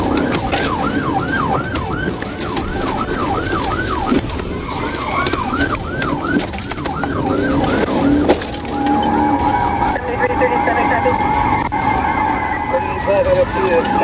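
Wailing police sirens during a high-speed chase on Lake Michigan Drive, a rapid yelping siren cycling loudly over engine and road roar, shifting to a steadier wail later, with radio-like voices talking underneath.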